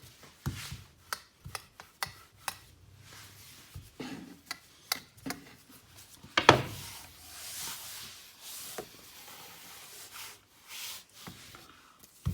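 A rolling pin works laminated pastry dough layered with butter on a wooden surface, making a long run of repeated rubbing, thudding strokes, close and fairly soft, with no talking.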